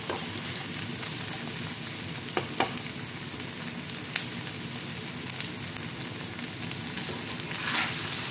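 Garlic and onion sauté in hot oil in a pan, giving a continuous close sizzle and crackle with a few sharp utensil scrapes and taps, and no voices.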